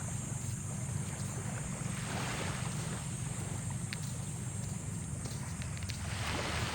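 Sea waves along a coastal shore, heard as a steady, continuous wash of surf blended with wind rumble across the whole stretch, with no voices.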